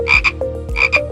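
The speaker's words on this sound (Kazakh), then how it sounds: "Бақа бақылдайды." A frog croaks in two quick pairs of rasping, buzzy calls with a short gap between the pairs, loud and near, over a soft musical backing with a low rhythmic pulse.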